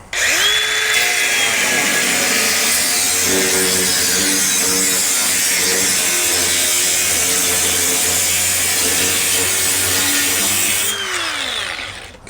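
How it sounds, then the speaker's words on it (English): A loud power grinder works over poor welds on a car's metal body, a continuous high whine with a spin-up at the start and a wind-down at the end, close and alone. "a grinder to fix all the poor welding"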